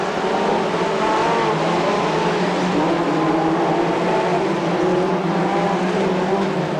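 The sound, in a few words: Formula 2 race car accelerating away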